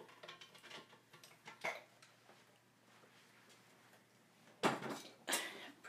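A large 10-quart Elite electric pressure cooker gets pulled across a kitchen counter, making a few scattered knocks and scraping clatters with quiet gaps between them.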